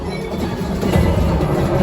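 A loud, steady rumble of a train rolling past on the Millennium Falcon: Smugglers Run ride at Disney's Hollywood Studios, with rattling clatter throughout.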